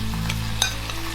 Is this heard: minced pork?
yes